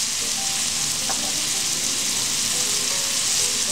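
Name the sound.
bay leaves and cayenne sauteing in a pan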